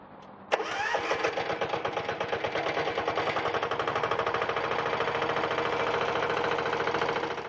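A Bertolini 405 S diesel walking tractor engine fires up abruptly after a quiet moment, then settles into a loud, fast, steady knocking chug close by.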